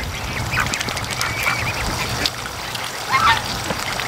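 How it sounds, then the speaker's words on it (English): Ducks and ducklings in a large pen quack and chatter while a water container is being filled, with a steady trickle and splashing underneath and a louder burst of quacking near the end. "I'm just filling the water up for the ducks."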